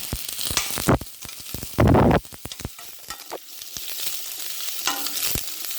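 Onions fry in a heavy-bottomed pot for a chicken curry, giving a close, crackling sizzle. Sharp scraping bursts from stirring cut in and out, and no one speaks.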